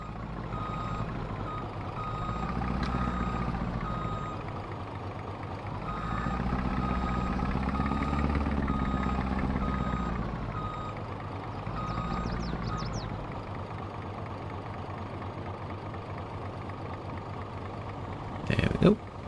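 A truck in Farming Simulator 22 backs in with a steady, repeating high reversing beep over a low idling diesel rumble that swells and eases, ending in a short louder clatter.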